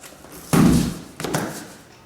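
Knocking on a locked door on a theatre stage: two heavy thuds, the first louder, about half a second apart, close and alone.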